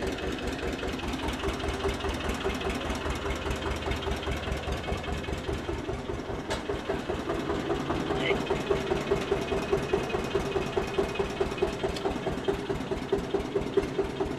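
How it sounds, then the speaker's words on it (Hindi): A tractor engine idles steadily and close by, a rhythmic low chugging with a mechanical knock that runs unbroken for the whole stretch, with no speech over it. "ट्रैक्टर स्टार्ट है, तो चला के दिखाओगे बताओ एक बारी"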